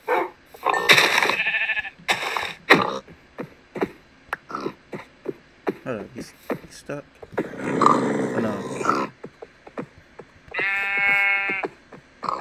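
Sheep in the video game Minecraft bleat with a short, clear, harmonic-rich call near the end, amid game sounds and a person talking throughout.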